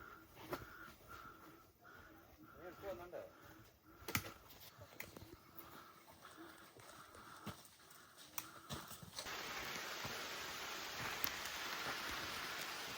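Rain falling during a hike near the summit of Gunung Gap, light scattered taps and footsteps at first, then a heavier steady patter of rain on surfaces building over the final seconds.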